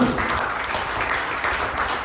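Congregation clapping together in a church service, a dense steady applause filling the whole moment at close range with a voice faintly mixed in.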